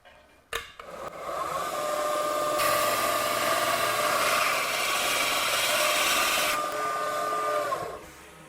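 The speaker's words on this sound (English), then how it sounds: "I have a nice attachment for my belt sander designed for making joints like this." Belt sander fitted with a tube-notching attachment grinds a steel tube, spinning up with a sharp start and then holding a loud, steady abrasive roar with a whining hum before winding down, close by.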